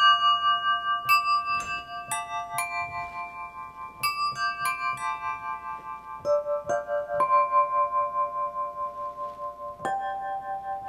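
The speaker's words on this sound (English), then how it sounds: "used tuned water glasses that sound something like this" Tuned water glasses ring out a slow four-note melody, each struck tone clear and bell-like with long sustained decay, notes repeating and overlapping in a quiet room with no talking.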